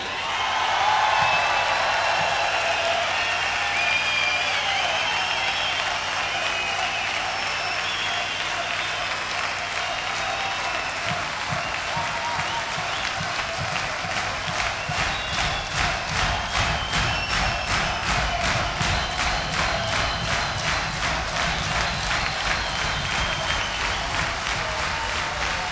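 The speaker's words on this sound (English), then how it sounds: "A round of applause, please, for the finest band in the land," Audience applause at a live concert for a band, starting as broad crowd noise with cheering, then turning into rhythmic clapping in time for the rest of the stretch.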